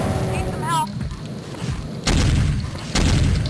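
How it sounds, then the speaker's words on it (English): Gunfire in Doom 2, heavy booming shots landing in two loud bursts after a stretch of muffled action and game sounds, with a voice talking in the first part. "What are you shooting at?"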